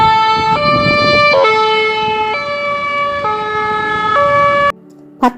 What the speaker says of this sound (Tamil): விரைந்து வந்தது ஆம்புலன்ஸ் வண்டி.